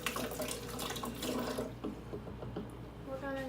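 Kitchen faucet running to rinse out a baking utensil, a close, steady splashing stream that eases off partway and is joined by brief talk near the end.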